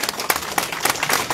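Audience applause welcoming a village sarpanch at a political gathering, a steady burst of clapping from a crowd, fairly loud and continuous with no talk over it.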